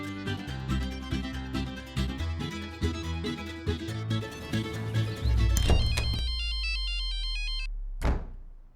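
A mobile phone rings in a home with a looping electronic ringtone melody, loud and close, sounding for about a second and a half after a stretch of background music ends.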